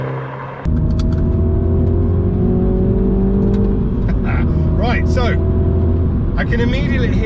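A MINI John Cooper Works DT Edition on the move, its engine and exhaust a steady, muted drone with tonal harmonics from the cabin after an abrupt start, gearing shifts audible as pitch changes, with a voice speaking over it.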